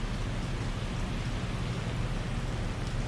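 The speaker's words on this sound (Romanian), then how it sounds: "Plouă" Morning rain falling outside, a dense, even wash of patter that holds steady throughout, with no voices.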